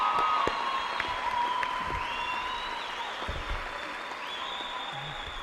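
A large crowd applauds at a high school graduation ceremony, a dense steady roll of clapping with a few whoops and cheers rising above it, slowly tapering.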